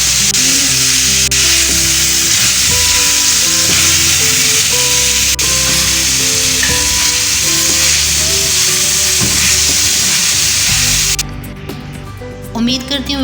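Tawa-cooked cauliflower being stirred with chopped coriander and spring onion, loud continuous sizzling under background music, with a spatula scraping the pan, ending abruptly near the close.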